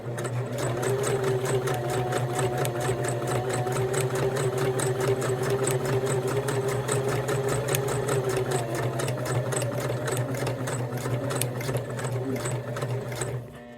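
A sewing machine runs steadily and loud, stitching rope around a cork coaster with a continuous mechanical hum and rapid needle rattle, no pauses and no talk.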